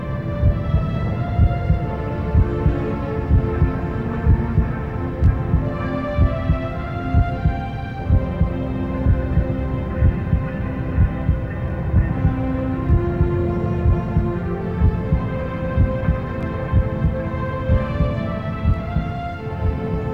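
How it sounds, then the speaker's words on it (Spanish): Inside the womb, a mother's heartbeat thumps in a steady, loud rhythm over a low whooshing hum of flowing blood, continuous and close. "Los ruidos intestinales de la madre, el fluir de la sangre y el latido del corazón."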